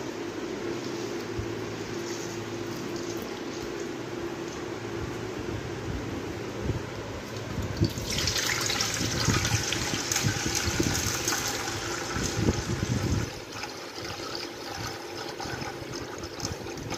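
Water splashes and pours steadily over homegrown wheat grains being washed, a continuous close rushing wash that grows brighter and fuller partway through before easing off.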